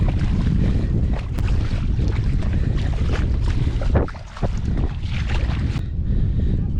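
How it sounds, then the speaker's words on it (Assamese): Wind gusts across an open farm field while seedlings are hauled for planting, a steady loud rumble of wind buffeting the microphone that dips briefly near the middle. "আৰু এফালেদি বতাহ মাৰিবলৈ ষ্টাৰ্ট হৈ গ'ল"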